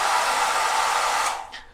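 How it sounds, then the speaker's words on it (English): An old hair dryer at the Prince Palace Hotel in Bangkok blows with a steady, loud whooshing whine close by, then winds down as it is switched off. "I can't help but find this hair dryer amusing."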